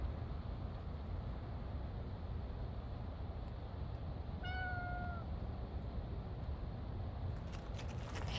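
A single short meow from a cat, fairly faint, rising then falling, against a steady background hiss.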